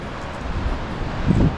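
Low, gusty coastal wind at Meat Cove in the Cape Breton Highlands buffets the microphone in a steady rumble, swelling slightly toward the end; no one speaks.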